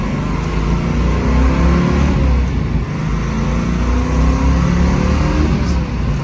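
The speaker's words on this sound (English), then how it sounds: "Alright, now we'll roll through the gears." A 1971 Ford Boss 351 accelerates through the gears, its engine note rising and falling in sweeping pitch climbs between shifts, loud and close with a steady rumble and no talk.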